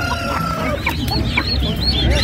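Chicks and chickens at a busy poultry and livestock market cluck and peep continuously up close, high chirps overlapping in quick irregular bursts over a dense, noisy crowd of birds.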